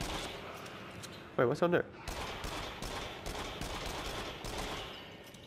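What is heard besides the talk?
gunfire from VR video game Rush of Blood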